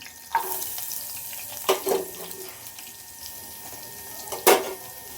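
Onions sizzle in a pan for Karnataka-style potato palya, a steady soft crackle broken by a few clinks and scrapes of stirring.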